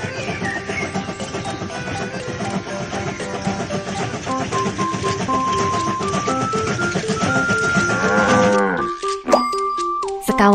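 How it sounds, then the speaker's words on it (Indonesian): Cartoon sheep bleat and moo in a repeated, tuneful chorus while standing on the railway track in a BabyBus children's train game. A few chiming effects close out the passage. "Kawanan domba ada di jalur."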